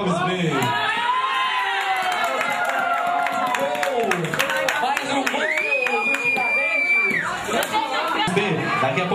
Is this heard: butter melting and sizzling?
no